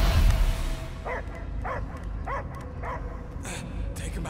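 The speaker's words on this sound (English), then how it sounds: "I hear only barking." Dog barking in the Guardians of the Galaxy video game: four evenly spaced barks or yips, moderately loud, over a low rumbling game ambience, with talking heard around them.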